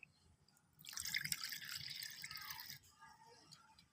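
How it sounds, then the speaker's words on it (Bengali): Warm water is poured from a bowl in a steady splashing stream lasting a couple of seconds, then trails off into faint drips in a quiet kitchen. "এখানে আমি হাত ছোঁয়া গরম জল নিয়েছি এই বাটি মেপে জল নেবো"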